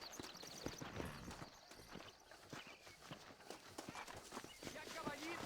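Rapid clip-clopping hooves pound along in an uneven galloping rhythm, with a horse whinnying now and then amid busy background noise, in the video game Red Dead Redemption.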